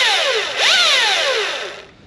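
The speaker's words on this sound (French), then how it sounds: "C'est une tronçonneuse électrique." Battery-powered Husqvarna electric chainsaw running near an irrigation pond, a loud, close, high whine that dips briefly and climbs again as it revs, then trails off at the end, with no talking.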